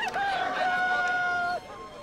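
A rooster crows once, loud and close, a long drawn-out call that ends abruptly, in a film scene of Peter's denial of Jesus.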